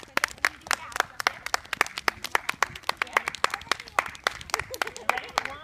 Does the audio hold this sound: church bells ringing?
no